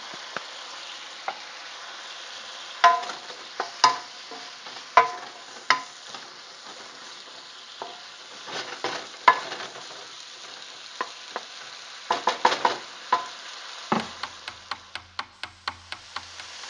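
Vegetables sizzle in a hot pan, a steady fry broken by scattered scrapes and knocks of a utensil stirring, the clatter growing busier and more rhythmic toward the end.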